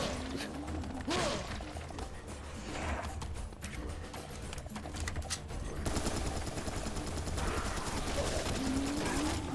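Gunfire from the first-person shooter Serious Sam 3, with dense rapid bursts of shots and crashing impacts throughout, loud and continuous, growing heavier toward the end over game effects.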